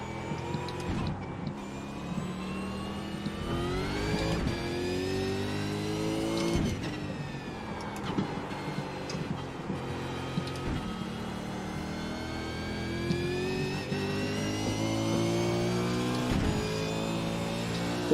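Several race cars battling in a close four-car pack, engines revving hard with rising and falling pitch through gear changes, loud and continuous from start to finish.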